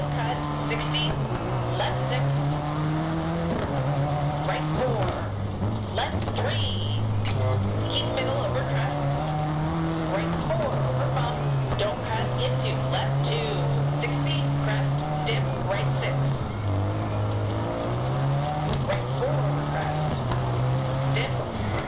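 A Subaru rally car in DiRT 4 drives on gravel, its engine droning and shifting pitch as it revs and eases off, with gravel crunch and occasional clatter underneath, while someone talks over it throughout.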